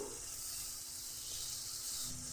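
A faint, steady sizzle of spice paste frying in a hot pan, continuous and even throughout with no voices.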